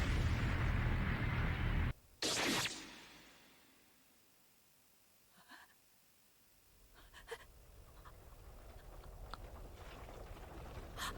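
A loud burst of broadband noise cuts off abruptly, followed by a sharp blast, then a fading rumble and scattered crackles before the noise builds again, an animated explosion from One Piece.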